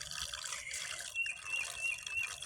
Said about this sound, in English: Let's see what the water coming out is like.